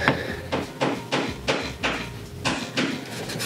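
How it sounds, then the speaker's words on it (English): A hammer taps nails back through the wood of a farmhouse sign in a steady series of sharp knocks, roughly seven or eight close strikes at a regular pace, with no voices. "Just gonna tap the nails back through so we can't see them."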